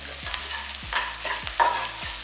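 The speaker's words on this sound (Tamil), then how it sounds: "வெங்காயம் எல்லாம் நல்லா வதங்கிட்டுருக்குல" Onions sautéing in oil for tomato rice, a dense close frying hiss under repeated scraping strokes of a spoon or spatula stirring them, with no talking.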